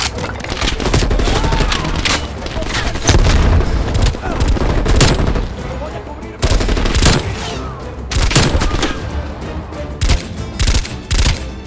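Rapid bursts of gunfire in the video game Call of Duty: Black Ops Cold War crackle loudly and almost continuously, with short gaps between volleys and a few heavier booms mixed in.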